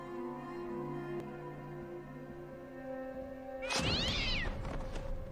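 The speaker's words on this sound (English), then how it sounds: "that's the black cat that we saw jumping through the window a few episodes ago" A black cat in a horror TV show lets out one loud, wavering meow near the end, above a quiet background drone, with no talk.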